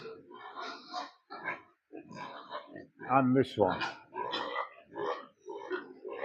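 Pigs grunt in a pen that has been cleaned, disinfected and lined, with low snorts under steady nearby talk that mostly covers them.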